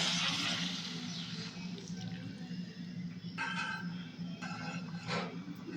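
Water is poured into a cooking pan of spices already sautéed with rock salt, making a steady rushing pour with a low hum and brief splashy bursts near the end. No one speaks.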